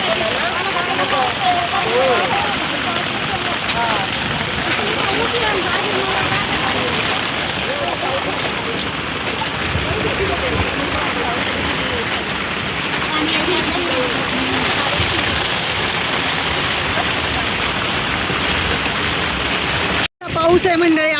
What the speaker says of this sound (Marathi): पाऊस आहे मंडळी आमच्याकडे बघा.